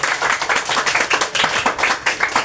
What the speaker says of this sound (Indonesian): Tepuk tangan bagi Tuhan kita.